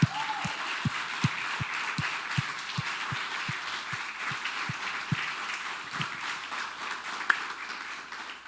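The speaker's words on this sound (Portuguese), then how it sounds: "Vamos aplaudir o Senhor bem bonito" A church congregation applauds in welcome for the pastor, a steady wash of many hands clapping at moderate distance, with some rhythmic clapping near the front.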